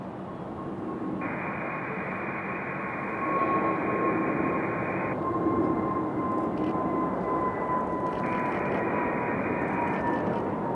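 An airliner takes off from Raleigh-Durham airport, its engine roar building steadily at a distance, with steady whining tones layered over a broad rumble.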